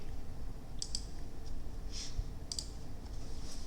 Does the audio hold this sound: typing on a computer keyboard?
yes